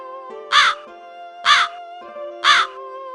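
A raven caws three times at an even, roughly one-second rhythm, loud and close, over a sustained musical tone in a folk tale sound effect.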